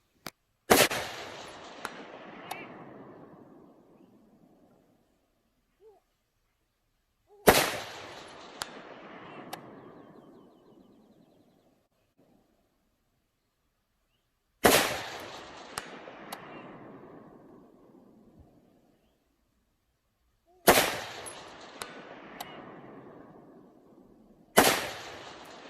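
Five sharp rifle shots ring out at an outdoor range, spaced several seconds apart. Each loud crack is followed by a long decaying echo, and faint pings come from a man-size steel target 300 yards away.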